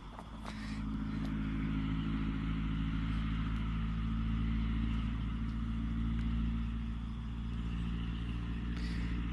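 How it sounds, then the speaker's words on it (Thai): Vehicle engines rumble steadily along the Phrae–Nan road in Thailand during a night curfew, a continuous low drone that swells slightly and persists without voices. "รถที่ผ่าน"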